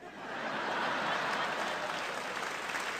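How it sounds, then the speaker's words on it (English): Dense applause from a comedy show audience swells up quickly and holds as a continuous wash of clapping, moderately distant, with a few faint chuckles mixed in. "I enjoy applause"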